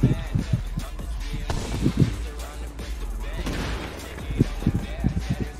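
Grenade blasts and bursts of gunfire in the shooter game The Division, repeated thumps and cracks through the clip under excited talk.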